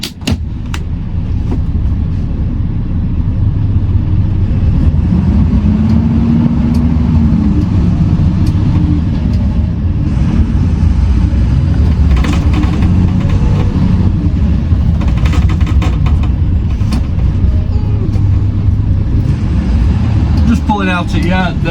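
A Mercedes Econic truck on a road test after a brake fault call-out, its engine droning loud and steady from the cab with rumble and a rising pull, while someone talks over it throughout.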